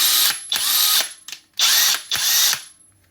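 A TOPSHAK brushless impact driver run at its level 3 setting, loud whirring bursts with a steady high whine, four runs separated by brief pauses, close and alone with no talk.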